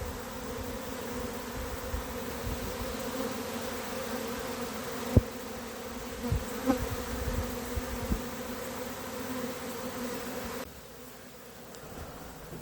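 Honey bees swarming at a transparent hive, a dense, steady buzzing drone heard close with a few faint knocks, fading quieter near the end.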